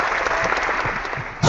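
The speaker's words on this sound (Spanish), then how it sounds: "un aplauso" A small audience at a storytelling gathering breaks into steady applause, brief and fairly close, with a louder burst right at the end.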